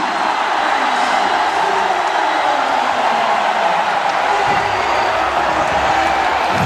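A basketball crowd roars at a professional league game in the Philippines, a steady, dense wall of cheering that holds at the same level throughout with no single voice standing out.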